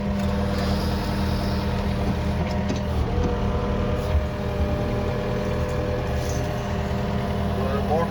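A tracked machine regrades a driveway during a culvert pipe repair, its engine holding a steady, fairly loud drone with a low rumble throughout, close by and unbroken.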